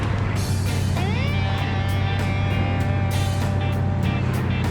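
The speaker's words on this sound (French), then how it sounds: "Votre première balade à bord de l'Impala de Joe." A Chevrolet Impala cruising on a spring outing, its steady low engine drone and road rumble continuous throughout, with some rising whine and light rattles on top; no talking.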